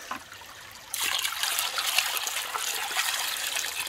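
Water trickles and splashes through a gold sluice, a steady broadband rush that starts abruptly about a second in and continues close and fairly loud without speech.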